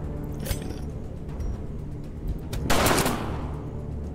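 Highwayman's Big Shot pistol attack in Darkest Dungeon, a sharp gunshot burst near 0.5 s and a louder blast with a rushing tail around 2.7–3.2 s, over a steady game background.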